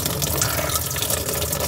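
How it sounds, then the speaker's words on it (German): Lukewarm water gushes from a tap at a campsite in Merzouga, Morocco, a loud, steady close-up splashing rush that continues unbroken with no talking. "Da kommt ja, lauwarmes Wasser."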